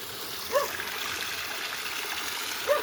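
Water runs steadily back into a reservoir with a clear bottom, a continuous trickling flow with a couple of brief splashy accents, moderately close and without speech.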